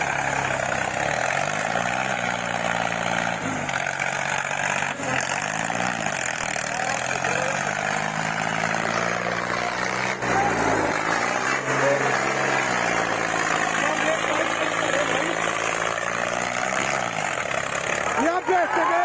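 A Sonalika 50 tractor runs during a stunt on wet ground, its engine a loud, continuous drone that rises and falls in pitch, with someone talking over it.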